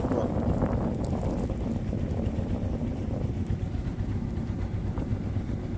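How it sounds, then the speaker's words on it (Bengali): A ship's engine rumbles steadily at close range along a river in the Sundarbans, with low continuous droning and wind buffeting the microphone throughout. "এই পাশ দিয়ে জাহাজ চলতেছে"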